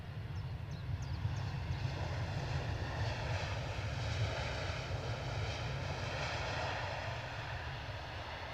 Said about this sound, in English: this is our EasyJet from Birmingham